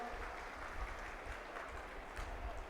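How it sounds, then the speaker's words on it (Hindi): Applause from an audience at a Bhagavat Katha religious gathering welcoming the saints, a steady, continuous clatter of many clapping hands spread across the whole stretch, moderately loud and diffuse. "मैं चाहूँगा एक बार जोरदार तालियों से हम स्वागत कर लें सभी"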